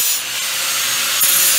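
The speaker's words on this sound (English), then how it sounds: "We'll just bevel this one a little bit." Steel bar end being beveled by hand before stick welding, a steady broadband rasping grind that runs continuously and fairly loud for under two seconds with no talk.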